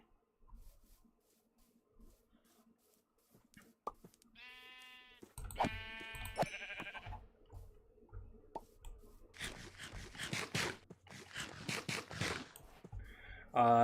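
Sheep bleat in a survival video game, a few short, clear bleats after near silence, followed by denser rustling game noises.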